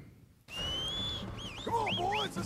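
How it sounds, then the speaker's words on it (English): A player whistles for a horse in Red Dead Redemption 2: after a brief hush, a long sustained tone is followed by several quick rising and falling whistle sweeps, clear over quiet game ambience. "Where's my horse? Whistling."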